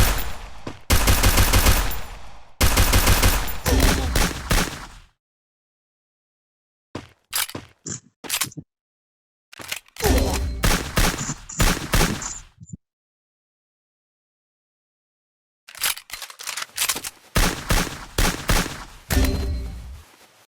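Bursts of automatic gunfire in a ranked shooter video game, loud sustained volleys in several clusters separated by short silences, with sharper single shots and clatter in between; no one talks.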